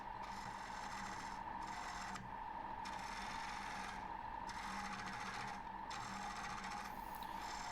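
Woodturning gouge hollowing out a natural edge ash bowl on a lathe, a steady scraping, rasping cut with a constant motor hum underneath, briefly easing off several times as the tool lifts from the wood.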